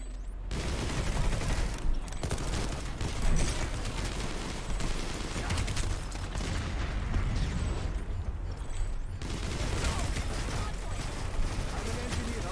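Sustained gunfire in the video game PlanetSide 2, dense overlapping bursts and shots that roll on continuously and fairly loud, with a brief lull near the end before the firing picks up again.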